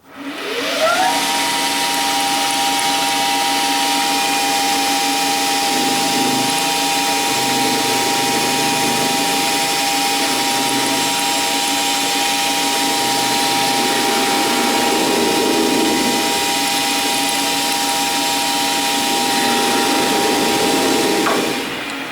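Metal lathe facing the ends of a small part held lightly in a 3-jaw chuck, a loud steady whir and hiss with a sustained machining tone running continuously from start to finish, no talk.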